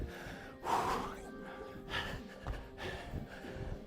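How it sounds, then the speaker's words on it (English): Heavy, gasping breaths during a kettlebell workout round, coming in a few loud, ragged bursts close to the mic, with faint background noise between them. "Heavy breathing."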